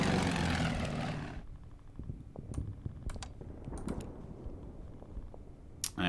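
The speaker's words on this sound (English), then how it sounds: "There's the Japanese plane." A Japanese World War II propeller plane flies in the strategy game Order of Battle: WW2 during the Bataan battle, a loud broadband engine roar that cuts off after about a second, followed by a quieter rumbling bed with scattered clicks.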